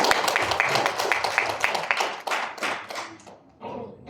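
An audience at a talk claps, the dense applause close and loud at first, then thinning into scattered claps and fading out.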